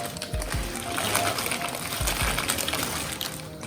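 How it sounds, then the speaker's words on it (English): Pasta is slowly added to a pot of salted water coming to the boil. Gentle splashing and bubbling water runs steadily under a few soft low thumps. "As the water is brought to boil, slowly add the pasta."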